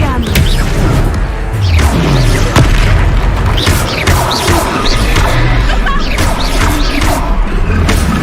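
In the Hogwarts Legacy video game, an Expelliarmus spell is cast during a loud duel, heard as heavy booms and crashing impacts with whooshes layered over a dense, continuous battle soundtrack.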